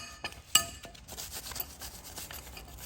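Someone scrubs rust off a brake caliper bracket on a BMW 5 Series, producing faint scraping and rubbing strokes with a sharp metallic clink near the start, close and quiet.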